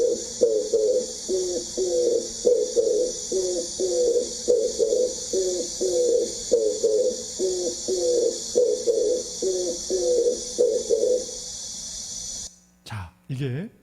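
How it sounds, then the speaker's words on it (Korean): Oriental turtle dove cooing in a steady run of repeated low, hooting phrases, fairly close and clear over a hissy background, ending abruptly with a few brief noises near the close. "비둘기 소리가 어떤지 한번 들어보겠습니다."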